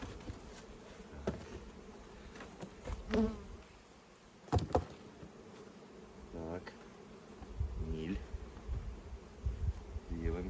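Honeybees in a hive buzz close by with a constant droning hum, individual insects whirring past the mic now and then, with occasional light knocks.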